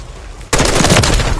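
After a brief quiet moment, a loud, dense burst of rapid gunfire erupts and continues without pause in the video game Call of Duty: Modern Warfare 3.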